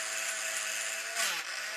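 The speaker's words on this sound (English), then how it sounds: "It's important that the grinder does not slip and grind where you don't want it to." A cheap set grinder mounted in a drilling machine grinds a metal casting for a Stuart steam plant rebuild, giving a steady high whine that swells and dips briefly near the end as the load changes.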